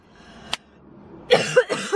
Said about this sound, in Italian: avrò la tosse per il resto della mia vita